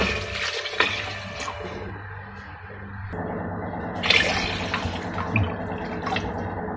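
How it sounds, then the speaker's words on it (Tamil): Water is poured steadily into a cooking pot to make flour dough for Tamil mutton thikkadi, a continuous splashing rush that shifts and thickens partway through, with no talking. "ஒரு படி மாவு எடுத்தால் 2 படி தண்ணி ஊற்றணும்."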